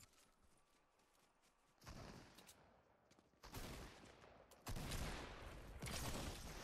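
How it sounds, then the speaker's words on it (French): Gunfire in Fortnite, rapid bursts of shots arriving in loud dense clusters that grow heavier toward the end over quieter game background. "Oh, je l'ai mis deux balles."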